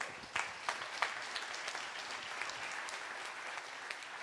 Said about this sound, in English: Beautiful, big applause.